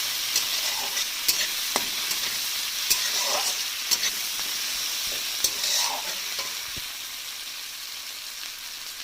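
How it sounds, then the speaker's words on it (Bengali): Onion and tomato frying in oil as the masala base for a chicken curry, giving a loud, close, continuous sizzle broken by several sharp clicks and scrapes of stirring. "মাংসের মশলা হচ্ছে পেঁয়াজ আর টমেটো ভাজছি"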